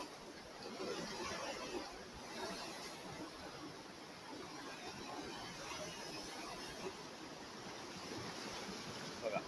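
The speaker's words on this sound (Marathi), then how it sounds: "लाटाच लाटा लाटाच लाटा" Sea waves wash in a continuous, fairly distant roar along a rocky Konkan shore, with wind hissing across the microphone and no single crash standing out.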